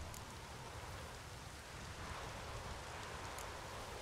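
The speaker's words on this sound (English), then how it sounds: "I've not managed a storm that fine for ages." A steady, dense hiss of storm rain falls in The Witcher 3: Wild Hunt, an even wash of drops with no breaks and no voices.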